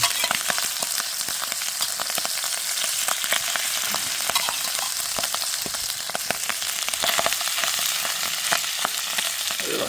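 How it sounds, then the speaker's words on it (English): Pork frying in a pot at home gives a steady, dense sizzle with crackling pops and spits, loud and continuous throughout with no voices. "Fry pork."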